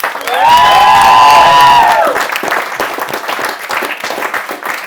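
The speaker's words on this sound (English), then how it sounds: "Round of applause for all the speeches, ladies and gentlemen." Guests at a wedding reception burst into applause and cheering after the speeches, starting with a loud whoop over the clapping and settling into steady, dense applause from the whole room.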